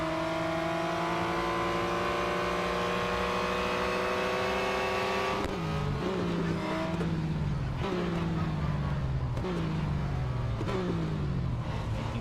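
Race car engine in a racing video game, steady high revving drone that drops sharply at each gear shift, several shifts in quick succession, loud and close, with talk over it.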